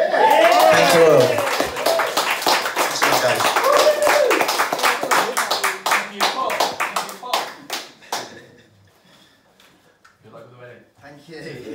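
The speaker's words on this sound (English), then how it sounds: "can we have another round of applause, please, for Paul Wyman?" Audience applause for performer Paul Wyman, a dense burst of clapping that starts loud and thins out into scattered claps, fading toward the end with a few faint late hand claps.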